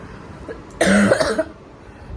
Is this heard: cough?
yes